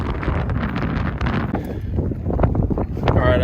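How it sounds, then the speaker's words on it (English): Strong Kansas wind gusting past a vehicle air filter during wheat harvest, a loud, steady roaring rush battering the microphone with no pauses. "Who needs an air compressor when you have the Kansas wind?"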